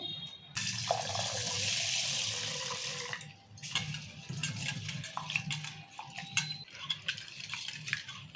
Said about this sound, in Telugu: ఇప్పుడు ఎర్రపప్పు కడుక్కుందాము